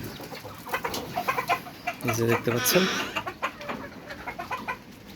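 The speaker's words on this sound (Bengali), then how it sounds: "আমার ছাদের উপর ফার্মি মুরগির যে খামার সেটা দেখাচ্ছি।" Fayoumi chickens clucking on a rooftop farm, with close, repeated clucks and a brief louder squawk, heard under someone talking.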